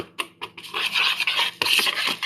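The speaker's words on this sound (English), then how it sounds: "So I'm whisking my brown sugar and my cinnamon together." Brown sugar and cinnamon being whisked together in a mug, close loud gritty scraping and rubbing strokes in quick irregular bursts, no talk.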